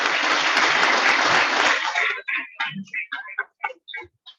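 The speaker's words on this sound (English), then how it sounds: "let's give Archie a big round of applause" Audience applause at a fire department retirement meeting, dense clapping for about two seconds that then breaks into scattered individual claps as it dies away.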